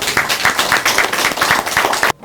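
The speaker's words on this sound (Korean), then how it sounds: "큰 박수로 모시도록 하겠습니다" Audience applause welcoming a lecturer to a public opening lecture, with dense clapping held at a steady level for about two seconds before it cuts off abruptly.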